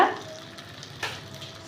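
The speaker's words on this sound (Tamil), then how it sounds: "இப்போ அதை வணக்கிட்டு இது மூணையும் நல்லா வணக்கிக்கலாம் தக்காளி பச்சை மிளகா சின்ன வெங்காயம்" Tomato, green chili and small onions sautéing in a pan for a mushroom gravy, a steady close sizzle with a brief stirring scrape, no talking.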